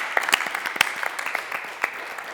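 A small audience at a dance and art festival panel discussion claps, with scattered individual claps over a soft, even patter, moderately loud and close.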